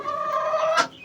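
A turkey gobbles once, close and loud, a brief warbling call from a farm flock.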